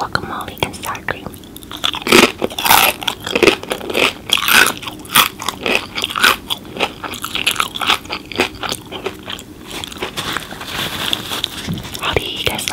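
A giant Chipotle chicken burrito with spicy nuclear sauce is eaten close to the mic, with wet bites, crunches and steady chewing running continuously. Soft whispery mouth sounds come through between the bites.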